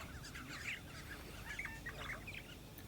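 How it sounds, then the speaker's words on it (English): Wild birds gathering in large numbers at a desert camp at Spitzkoppe, making harsh overlapping calls and squawks during a fight. The calls are faint and sit over a low background murmur. "The whole atmosphere changed with a peculiar sound the other birds watching the fight were making."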